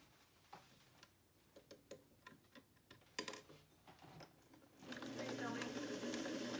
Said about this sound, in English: I'm going to sew top stitch. I like to sew it about 8 stitches per inch.